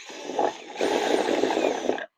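Small drill boring a hole in a plastic planter, a thin whirring buzz in two bursts, a short one and then a longer steady run that stops abruptly, close and alone.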